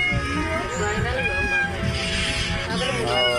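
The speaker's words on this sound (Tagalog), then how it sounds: "Tuwing umiiyak po yung pusa, nalulungkot po siya." A cat meows in drawn-out, wavering cries over a busy background with some voices, fairly close and loud.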